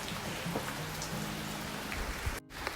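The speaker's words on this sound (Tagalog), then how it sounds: "Kaya lang umuulan." Rain patters steadily onto a vegetable garden with sponge gourd vines, a close, even hiss of drops on leaves with a brief dropout near the end and no voices.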